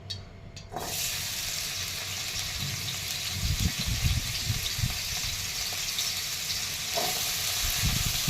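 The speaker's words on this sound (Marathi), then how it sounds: "तेलामध्ये आता आपल्याला बटाटा थोडंसं फ्राय करून घ्यायचं आहे" Potatoes fry in hot oil as a steady broadband sizzle, with bursts of low clattering from stirring in the pan, loud and close with no talking.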